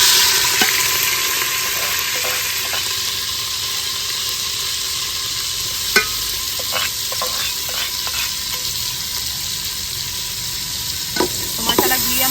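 Spices fry in hot ghee with a constant close hiss and crackle, punctuated by occasional sharp spoon taps and scrapes against the pan, heard alone without talk.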